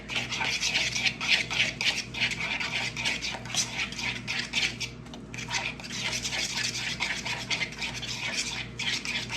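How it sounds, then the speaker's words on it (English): Egg salad with Duke's mayonnaise being stirred in a bowl, giving a continuous wet, scraping, squelching rhythm of steady mixing strokes, close and fairly loud. "Mix it all up."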